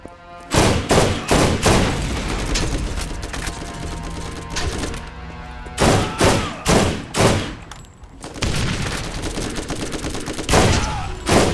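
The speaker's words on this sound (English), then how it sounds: "See if your machine gun can match my combat rifle." Rapid bursts of machine gun and combat rifle fire from a Borderlands firefight, loud and close, coming in repeated volleys separated by short pauses and longer sustained streams.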